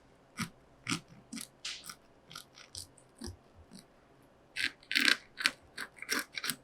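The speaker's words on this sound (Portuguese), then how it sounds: "Ai, gente, isso é um barulho lindo, né? Essa crocância." The crisp crust of a hot cassava focaccia crunches as it is cut open, a string of close, sharp crackling bursts that grow louder and denser toward the end.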